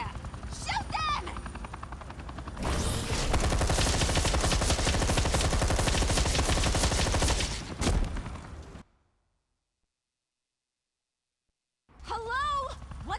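Police gunfire in a Batman video game: a long, loud rapid burst of automatic shots roars for several seconds, then silence, with voices talking before and after.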